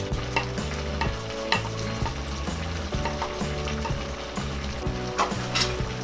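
Salted black beans go into a simmering, nearly dry humba pork stew, giving a steady sizzle and bubbling under looping background music.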